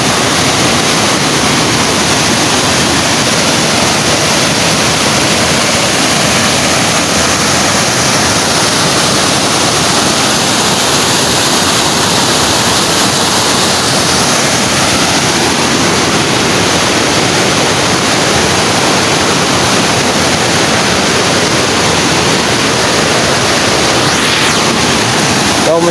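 Steady roar of a waterfall at an abandoned falls, a continuous broadband rush of falling water that stays close and loud throughout with no pause.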